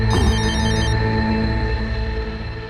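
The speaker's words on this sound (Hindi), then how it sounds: "संजार भाई का फोन है। तो जल्दी उठाओ ना।" A telephone rings in a tense scene of the drama series Team 1, a steady electronic ringing tone repeating loud and close for a few seconds with no talk over it.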